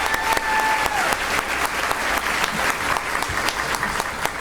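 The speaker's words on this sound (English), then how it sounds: "Let's give them a round of applause." An awards-ceremony audience applauds a brass band, steady dense clapping from a sizable crowd in a hall, continuous and moderately loud with sharp individual claps standing out.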